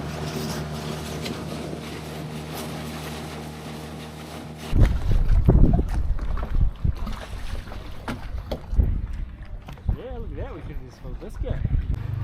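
Motorized dinghy heading into town, a low engine drone with water splash and wind buffeting on the microphone; the motor noise starts strongly midway and carries on near and loud.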